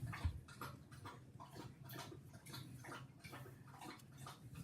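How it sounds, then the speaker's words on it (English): Dog lapping and slurping water from a bowl in the background, a faint rhythmic series of wet laps repeating about twice a second, distant and soft. "That's my dog slurping water in the background"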